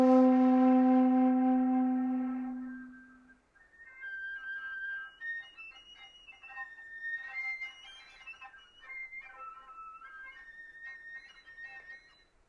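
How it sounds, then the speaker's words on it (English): Whistle tones on a wind instrument: a strong, steady low tone that fades away, then thin, brittle high pitches flickering and breaking one after another, fairly quiet and alone. "Also, we can look at whistle tones."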